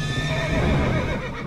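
A cartoon horse neighs in one drawn-out, wavering whinny, loud and close, with a musical background bed under it.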